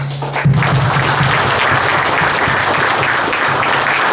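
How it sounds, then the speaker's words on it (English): Loud, dense applause from a graduation audience honoring scholarship donors, a sustained wash of many hands clapping together that fills the space evenly from start to finish. "please put a round of applause for our very own scholar donors"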